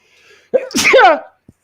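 One loud, close sneeze bursts out after a faint breathy intake, followed by a brief tiny click and then quiet.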